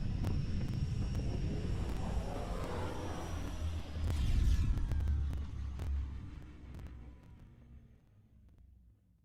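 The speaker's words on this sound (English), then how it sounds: "Descent engine engaged." Spacecraft descent engine from Mass Effect Andromeda, a loud sustained roaring rumble that swells near the middle and then fades away toward the end, alone with no talk.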